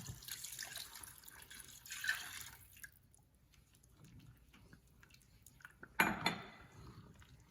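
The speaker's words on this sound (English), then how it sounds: "after the wine is mixed in, I'm going to add in 2 cups of beef broth" Beef broth is poured into a cooking pot of wine-based sauce, giving soft splashing, trickling bursts close by: a longer pour at first, then a sharper splash later. No one speaks.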